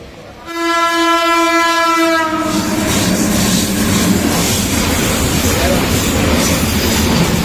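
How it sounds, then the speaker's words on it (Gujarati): A long, loud horn blast from a passenger train on the Bhavnagar–Surendranagar line near Ranpur sounds for about two seconds, then gives way to a steady heavy rumble of the moving train from onboard. "આપણા ટ્રેનની લોંગ વિસલ થઈ ગઈ"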